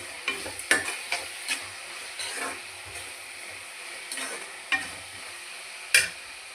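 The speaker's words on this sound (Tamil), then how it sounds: "நல்லா வதக்கலாம்." Garlic and curry leaves sauté in a pan with a soft, steady sizzle, while a spatula scrapes and clicks against the metal in occasional sharp taps; the sound is close and fairly quiet, with no one speaking.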